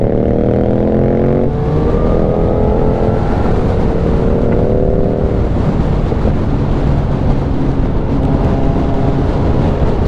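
Steady, loud, close engine drone of a Yamaha XSR900 motorcycle with rising and falling harmonic tones as it revs and shifts, continuous wind-rushed exhaust note throughout with no voices.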